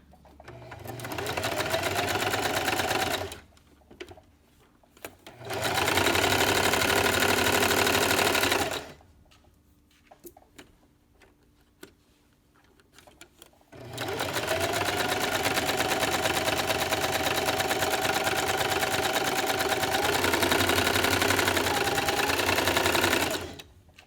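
A sewing machine stitches a seam on a baby sleeper in three long bursts of rapid, steady whirring, separated by quiet pauses with faint handling noises.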